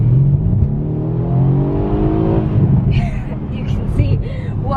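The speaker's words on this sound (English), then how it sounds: "So if I hit the gas" A 2017 Mercedes-Benz AMG C63s coupe engine revs up loudly as the gas is pressed, a deep rising roar heard close from inside the car, with brief higher mechanical whines near the end.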